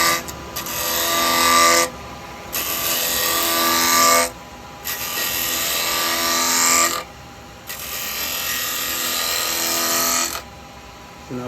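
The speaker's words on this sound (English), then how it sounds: "so now I can use the bowl gouge." A bowl gouge cutting a spinning wooden bowl on a lathe: loud, bright hissing cuts in three long passes of about two seconds each, separated by short quieter gaps where the lathe hum continues underneath.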